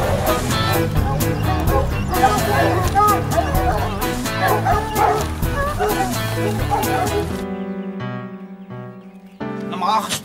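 A dog barks and whimpers amid a busy, loud scene with music and overlapping voices, the barking mixed under the noise rather than standing alone.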